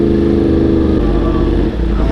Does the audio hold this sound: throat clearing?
no